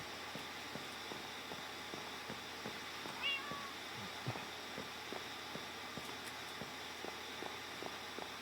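A cat in the video game Spellbound gives a short, faint meow against steady ambient game noise and soft rhythmic footstep ticks.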